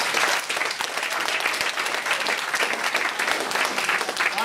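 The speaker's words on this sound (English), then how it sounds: "Big round of applause" Wedding guests applauding during a best man speech: dense, sustained clapping from a sizeable crowd, loud and close, steady for the whole stretch.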